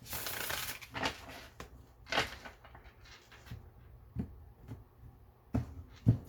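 Tarot cards being shuffled by hand, a string of short papery riffling bursts and soft slaps close by, louder at the start and then coming in separate quick flurries.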